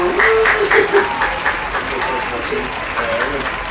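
Audience clapping at a reality show finale, a burst of applause mixed with cheering and voices talking over it, fairly loud and close.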